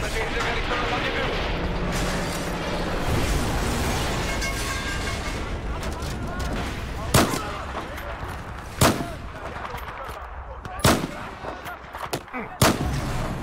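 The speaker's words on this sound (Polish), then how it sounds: "No, wybuchło to w końcu." Explosions and gunfire from the video game Battlefield 4: several sharp, loud blasts arrive in the second half, separated by irregular gaps, over a continuous rumble of battle noise with players talking throughout.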